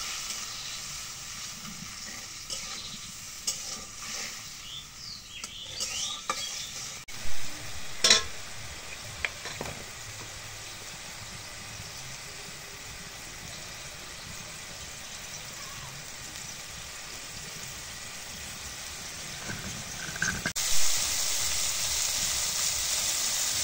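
Cumin and garlic paste fries in a pan with a quiet, steady sizzle, interrupted now and then by soft stirring clinks and scrapes, with a brief louder burst near the end.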